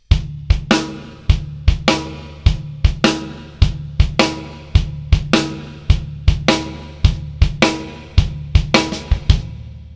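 Drum kit groove in a blues shuffle: bass drum thumps with sharp snare backbeats on two and four over a swung cymbal pattern, loud, close and continuous with nobody talking.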